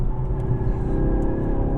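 A 2016 Ford Focus RS turbocharged engine pulls hard on a track, a loud, close, rising drone with a steady rumble underneath and no voices.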